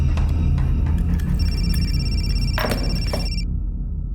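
An old-style telephone bell rings in a dramatized crime scene, a loud repeated metallic trill over a rumbling room background that cuts off abruptly near the end.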